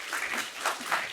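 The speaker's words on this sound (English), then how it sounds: "Second round of applause." Short burst of audience applause at a panel discussion on women's rights, a brief wash of clapping with no speech over it.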